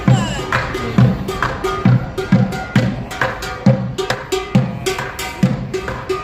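Rhythmic copyright-free music track with a steady cowbell-like percussive beat and clattering hits, loud and continuous without any voices.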